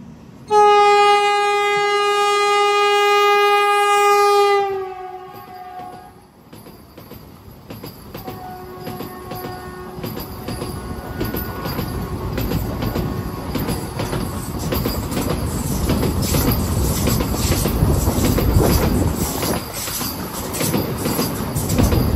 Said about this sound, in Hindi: क्रॉसिंग देख लीजिए वंदे भारत की